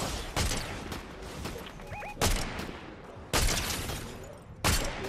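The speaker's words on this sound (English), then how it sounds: "Someone's shooting my pal." Fortnite gunfire comes as repeated loud bursts of rapid shots and sharp cracks over a dense, busy in-game background, with heavy blasts landing every second or so.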